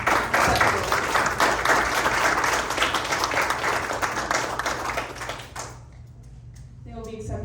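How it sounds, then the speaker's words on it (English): An audience at a Hispanic leaders awards ceremony applauds an honoree. The dense, loud clapping runs several seconds, then tapers off into near quiet with a few voices at the end. "So we can give a round of applause"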